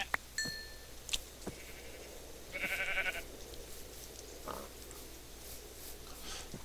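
Sheep bleating in the video game Minecraft, a short nasal bleat rising clearly above a quiet background, with a few faint clicks around it.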